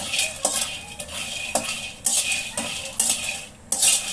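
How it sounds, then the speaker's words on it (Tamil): Raw peanuts roasting dry in a pan are stirred with a metal utensil, giving repeated scraping, rattling strokes about every half second, close and fairly loud with no voices. "இது பச்சை வேர்க்கடலை டிமார்ட்டில் வாங்கிட்டு வந்து நல்லா ரோஸ்ட் பண்ணிகிட்ருக்கேன்"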